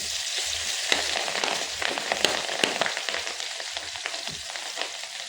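Chopped green chillies frying in hot oil for a crisp poha chiwda: a steady, bright sizzle crackles and spits continuously, with light stirring scrapes mixed in and no voices.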